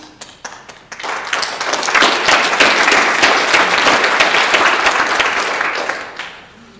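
A lecture audience bursts into loud, sustained applause that swells after a few scattered claps, holds steady, then fades out.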